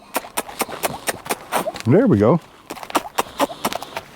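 A horse's hooves clop in a quick, regular rhythm as it steps up into a horse trailer, the hollow knocks close and clear, with a man's short spoken remark partway through.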